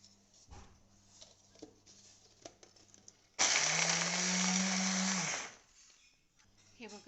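A mixer grinder whirs loudly for about two seconds while chopping garlic finely, starting abruptly and cutting off, with quiet kitchen sounds before and after.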